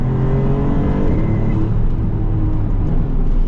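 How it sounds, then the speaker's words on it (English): Maserati MC20 Cielo exhaust note heard from inside the cabin with the roof closed, a loud steady engine drone that rises slightly in pitch as the car pulls, alone without talk. "you've got a little bit more exhaust note into the cabin without having to drop the top"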